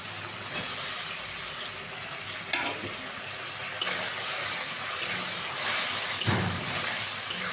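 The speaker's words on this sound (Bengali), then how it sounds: "ভালো করে নেড়ে থাকতে হবে, কেননা কাজু আছে" Raw paneer and cashews fry with green chillies in a pan, a continuous soft sizzle broken by occasional scraping stir strokes, close and moderately loud with no voices.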